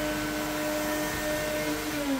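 A Hoover vacuum cleaner runs with a steady, continuous whine and motor drone, even in level throughout, with no voices over it.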